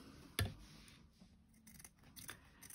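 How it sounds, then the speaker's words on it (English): Scissors trim excess thread or fabric while stitching a heart: one crisp, close snip followed by a few faint cuts and rustles in a quiet room. "put a knot in there and then just trim off the excess material"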